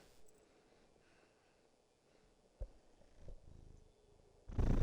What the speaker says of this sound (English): I don't know if you guys can hear his purring through the mic.